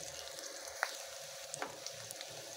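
Garlic frying in a pan before shrimp heads go in, with a steady soft sizzle broken by a few brief crackles and pops, no voices.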